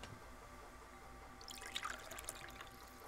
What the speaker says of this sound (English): Put the water in there.